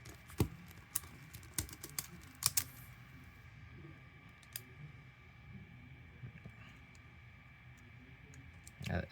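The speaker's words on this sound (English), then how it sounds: "this one could be clicking because this is an extremely loose MGC 5x5" A loose MGC 5x5 puzzle cube clicks sharply as it is turned, irregular dry clicks scattered over a quiet background, a few louder snaps standing out among softer ticks, with no voices.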